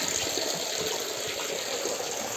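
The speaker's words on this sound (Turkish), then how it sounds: "Bu şekilde gördüğünüz gibi dört kurnadan akışkanlığı olan bir su." Water pours steadily from four spouts of a spring fountain, a constant close splashing gush with no pauses.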